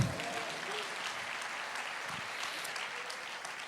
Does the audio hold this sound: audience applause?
yes